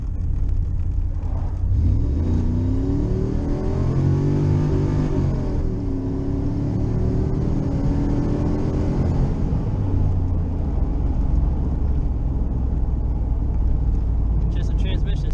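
An LT1 small-block 350 Z28 Camaro engine revs up under acceleration from inside the car, a steady loud rumble rising and falling as it pulls, with someone talking over the engine noise.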